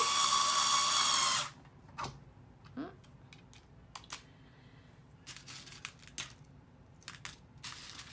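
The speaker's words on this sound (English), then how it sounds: "I just drill this in." A loud power drill whirs steadily for over a second as it drills into a resin painting board, then cuts off, leaving scattered clicks, taps and small handling noises.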